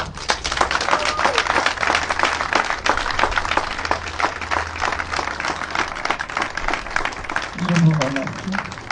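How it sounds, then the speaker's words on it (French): An audience at a volunteer chaplain graduation ceremony in Franceville, Gabon, gives a long round of applause, continuous close clapping with a brief voice rising near the end. "aidez-moi à remercier notre bon Dieu par un tonnerre d'applaudissements"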